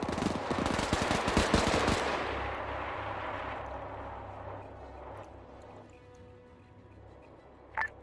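Automatic machine gun fire in the military shooter Arma 3, a loud dense burst for about two seconds, then fading into a distant rumble with a sharp click near the end.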